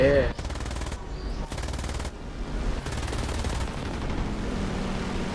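Bf 109 machine guns firing in War Thunder, several sustained rapid bursts of rattling fire with brief pauses between them, loud and close, over a continuous engine drone.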